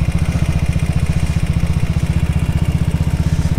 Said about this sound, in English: So 350cc single side valve engine.